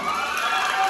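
Crowd at a motorcycle club anniversary charity ride cheering and clapping for Team 1, a dense, steady roar of shouts and applause.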